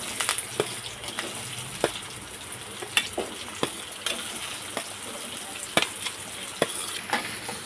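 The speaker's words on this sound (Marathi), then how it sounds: "आपलं तेल गरम झाले तर यामध्ये मी मोहरी टाकून घेणार आहे, कढीपत्ता, कांदा टाकून घेणार आहे" Mustard seeds, curry leaves and onion fry in hot oil: a continuous sizzle broken by sharp, irregular clicks and scrapes of stirring against the pan.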